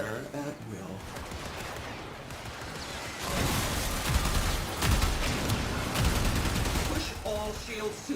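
Railjack weapons and torpedoes fire in the space combat game Warframe, a dense, continuous barrage that swells louder partway through and stays heavy to the end.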